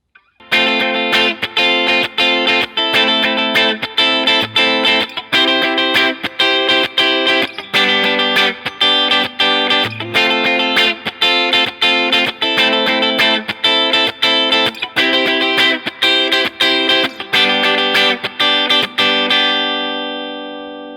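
An electric guitar with heavy effects strums the chords of a song in a steady, rhythmic pattern, bright and loud, ringing out at the end.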